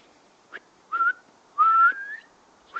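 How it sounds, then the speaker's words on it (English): A person whistles to call a dog outdoors, giving a few short rising whistle notes with one longer sliding note in the middle, fairly clear and alone. "Whistle."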